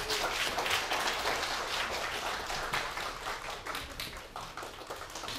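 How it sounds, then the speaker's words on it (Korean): A lecture hall audience claps to welcome a university lecturer before a talk, a dense burst of applause that stays strong and then gradually thins and softens toward the end. "그래서 모두 큰 박수로 최영찬 선생님이 좀 맞아주시면 감사하겠습니다."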